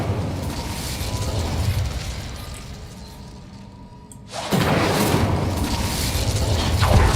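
An Incendio fire spell is cast in the video game Hogwarts Legacy. A low rumble thins to near quiet, then a sudden loud whooshing burst of flame erupts and roars on steadily.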